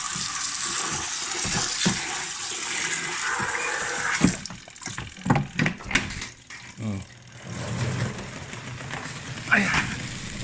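Water runs and splashes through a Union spinner dryer being leak-tested after repair, a broad rushing flow that breaks into uneven gurgles and bursts midway, fairly close, with someone talking over it.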